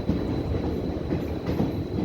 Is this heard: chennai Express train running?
yes